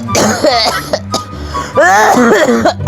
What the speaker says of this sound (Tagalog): Nisugmat na po ding ubo ba?